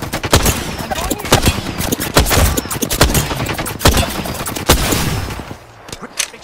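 Rapid bursts of gunfire in the battle-royale shooter Apex Legends, loud and close with several dense volleys and single shots through the whole stretch, easing slightly near the end.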